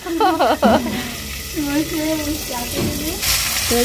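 Chicken leg pieces sizzle and crackle as they deep-fry in oil on a clay stove, a steady hiss running under a voice talking throughout.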